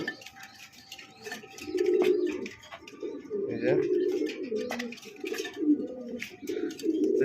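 Pigeons kept in a breeder's loft coo softly and repeatedly nearby. Their low, rolling calls rise and fall in overlapping bursts, with light chirps and rustling around them.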